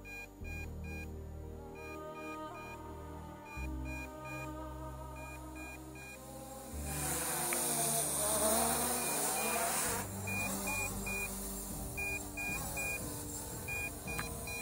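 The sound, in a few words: low battery alert beep from MJX Bugs 3H drone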